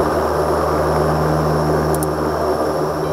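An aircraft rolls out and taxis after landing at an Arctic airfield on Franz Josef Land, its engine drone loud, close and continuous with a steady low hum.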